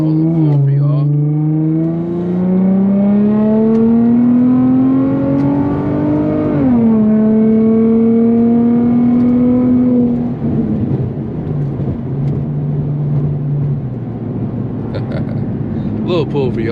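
An Infiniti G35 accelerating through city traffic, its engine note climbing steadily, dropping briefly at a smooth gear shift, then rising again before easing off. It is close and loud, heard from inside the car.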